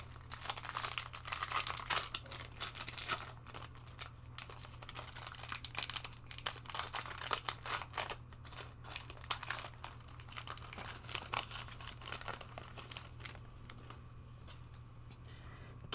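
A Lord of the Rings Tales of Middle-earth card booster pack wrapper is opened by hand, giving soft, continuous crinkling and rustling close up in a quiet room, with no one speaking.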